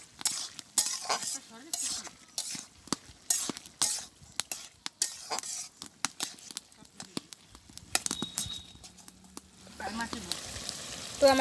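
Hilsa fish pieces and scraps stirred into a pan of frying amaranth stems in a village kitchen, with a spatula scraping and clinking repeatedly over a soft sizzle, close up, fading to quieter sizzling at the end.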